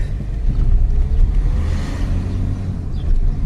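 A Toyota Corolla with a faulty robotized clutch gearbox idles after being started, a loud, close, low engine rumble holding steady for a few seconds.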